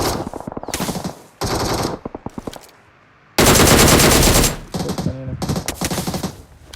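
Automatic gunfire in the video game PUBG comes in loud, rapid bursts separated by short pauses, with one long sustained volley in the middle, close and dominant with no speech over it.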